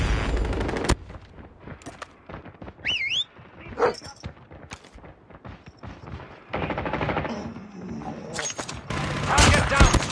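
Automated sentry gun fire in a Call of Duty Mobile Frontline match on Nuketown, loud bursts of rapid gunfire mixed with other weapon shots, whistling effects and game voice callouts.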